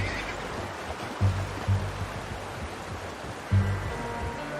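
A horse whinnies and snorts in Red Dead Redemption 2, a few short throaty calls spaced over several seconds above a steady wash of ambient game noise.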